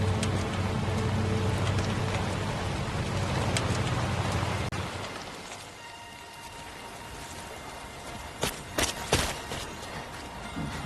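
Steady rain hisses across the scene in the video game Death Stranding 2, dense and constant for several seconds before thinning to a softer patter, punctuated near the end by a few sharp drips or knocks.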